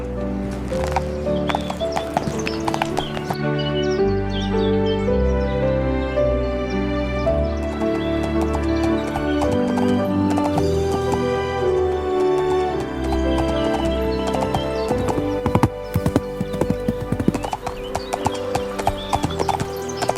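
Steady horse hooves clip-clop as a princess rides off on horseback, the rhythmic hoofbeats carrying on throughout under a full bed of music, with a brief neigh.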